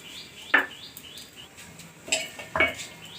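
Oiled idli bowls clink against each other in a home kitchen: a few sharp metallic knocks, close and separate, with quiet scraping between them.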